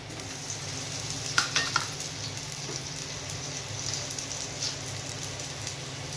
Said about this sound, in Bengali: এবার আলুটা ভাজছি।